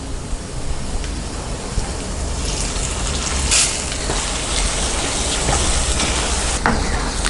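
Dates halwa mixture poured into a hot pan, giving a steady broadband sizzle and gush with a few sharper hissing bursts, close and fairly loud throughout, no talking.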